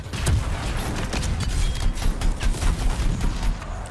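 Rapid gunfire in the video game Anthem, aimed at an enemy's weak point, rattles in dense overlapping bursts through the whole stretch with booming low end and steady loudness.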